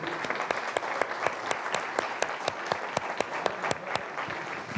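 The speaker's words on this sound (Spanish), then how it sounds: "Ustedes, un aplauso," Audience at a book presentation applauding steadily, a dense, even patter of many hands clapping at moderate loudness with no voices standing out.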